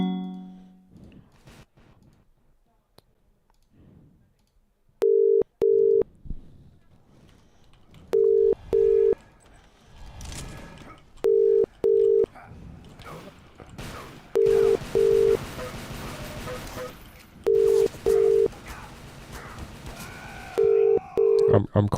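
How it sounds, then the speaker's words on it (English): Phone ringback tone in the game Open Fortress sounds in regular paired beeps, about seven repetitions spaced every few seconds, loud and clean over faint background noise, with gunfire bursts building toward the end. "I'm calling him. I don't know if you can hear the phone noise."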